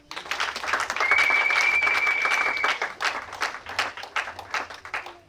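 A church congregation breaks into loud, dense applause that holds for a couple of seconds, then thins into scattered claps with crowd murmur.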